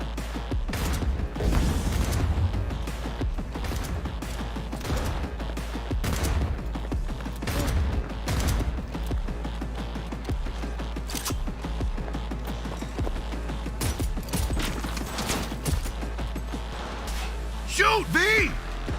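Gunfire in the video game Cyberpunk 2077, scattered bursts of shots throughout under steady background hum, with players talking over the action.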